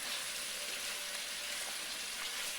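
Chicken frying in a karahi gives a steady, dense sizzle, loud and even throughout with no talking.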